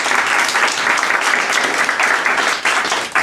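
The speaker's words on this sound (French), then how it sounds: "je vous demande de l'acclamer et de vous applaudir" Loud, dense audience applause at a ceremony, a continuous roar of many hands clapping that dips briefly near the end.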